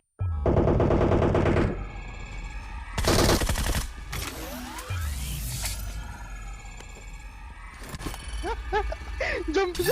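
Rapid automatic gunfire from PUBG Mobile, a loud sustained burst followed by further volleys and scattered shots, with in-game effects in between.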